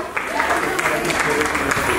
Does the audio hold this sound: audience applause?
yes